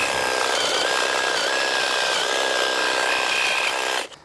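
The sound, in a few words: Makita DUH506 18 volt cordless hedge trimmer running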